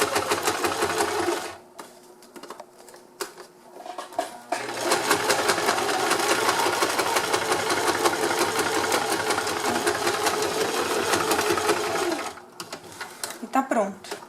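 A sewing machine stitches fabric for a lunch bag in fast buzzing bursts, a short run then a long continuous one of about eight seconds, loud and close, with quiet pauses and light handling between.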